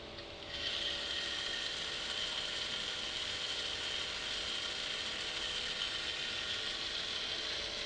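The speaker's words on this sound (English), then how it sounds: "if we switch on the system, the motors will be moving." Motors of an automated crash avoider run steadily, a faint, even mechanical whir with a fine rattling texture that starts after a moment and continues unchanged.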